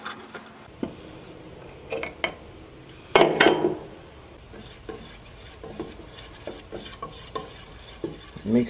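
Car paint for a Cadillac STS bumper and fender being stirred in a container: irregular scraping and light clinking, with one louder, busier stretch of stirring near the middle and quieter scrapes before and after.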